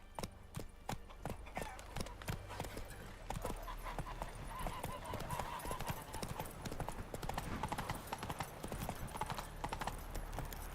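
Horse hooves clip-clopping at a gallop in Witcher 3, a steady rapid rhythm of close, loud hoof strikes running throughout over game background sound.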